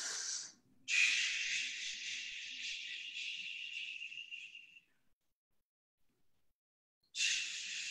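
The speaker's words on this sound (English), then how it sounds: "Breathing, keeping it moving." Heavy, forceful breaths during an uppercut boxing workout: a short burst, then one long hissing exhale of several seconds, a pause of near silence, and another sharp breath, close and alone.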